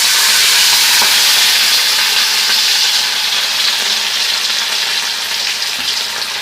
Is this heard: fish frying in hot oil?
yes